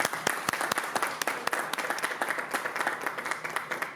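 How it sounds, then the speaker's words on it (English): A business event audience gives a round of applause for a keynote speaker, a government department director, with sustained clapping of many hands, sharp individual claps standing out near and steady throughout. "Please give a round of applause for the Director of the Department of Small and Local Business Development,"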